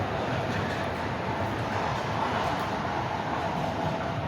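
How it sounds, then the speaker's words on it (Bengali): A small park train pulling away from its station makes a continuous broadband rumble and rushing noise, steady and fairly loud throughout, with no distinct wheel clacks. "ট্রেন চলা শুরু হয়ে গেছে।"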